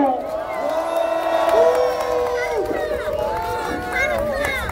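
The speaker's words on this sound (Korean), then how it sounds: "박수 부탁드립니다." A large crowd at an outdoor political rally on a public square responds together, a dense swell of cheering and clapping with shouts and whoops rising and falling, close and loud.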